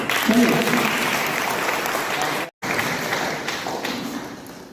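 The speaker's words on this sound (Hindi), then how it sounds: "ताली ताली।" Students at a school in Bettiah clapping together in a steady burst of applause, briefly cut off by a short gap, then resuming at similar strength.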